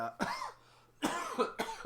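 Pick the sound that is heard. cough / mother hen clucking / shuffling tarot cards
cough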